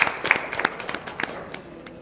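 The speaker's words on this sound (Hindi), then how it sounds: "तालियां" A brief, thin round of clapping from a small gathering at a ceremony honoring state board exam toppers, with scattered claps that fade quickly and a few faint voices underneath.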